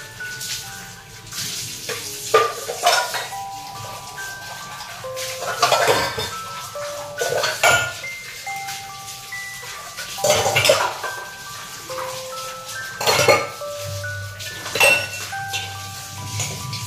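Dishes, pots and utensils being washed at home: intermittent clinks and clatters of metal vessels set down in bursts every few seconds, with running water and a faint tonal hum in the background.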